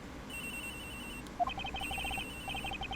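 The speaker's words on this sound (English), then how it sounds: "Agent Hicks's phone! It's ringing from somewhere, sir!" A mobile phone rings in the Ace Attorney Investigations video game, a repeating electronic ringtone of quick bright tone pulses that starts partway through over a steady background hum of game music.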